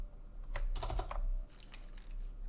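Soft clicks of typing on a computer keyboard come in quick clustered bursts, faint and close, with no voices.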